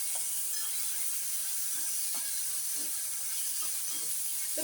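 Chopped tomato frying in a pan over a medium gas flame gives a steady close hiss with light sputters and a faint low hum underneath.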